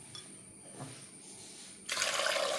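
Potatoes being washed under running water in a home kitchen while preparing an evening snack; a quiet stretch gives way to a sudden, steady, close rush of flowing water that continues to the end.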